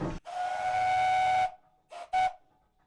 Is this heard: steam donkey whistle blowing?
yes